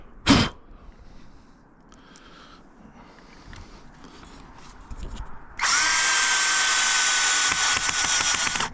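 A power drill runs loud and steady for several seconds, close by, during an outdoor weather station install with a little snow around; a sharp knock and quieter handling noises come before it.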